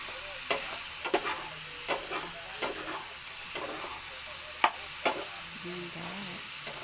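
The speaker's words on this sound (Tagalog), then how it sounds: "Tapos, haluin na siya." A spatula stirs ampalaya and sotanghon noodles with egg in a frying pan, sharp scraping clicks at an irregular pace over a steady soft sizzle, close and alone.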